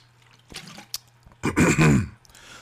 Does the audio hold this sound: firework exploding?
no